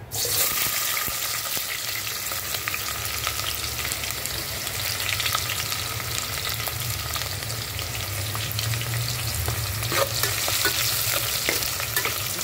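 Onions frying in hot oil for biryani birista, a steady, loud, dense sizzle and crackle that continues evenly throughout, with occasional faint stirring clicks and no voices.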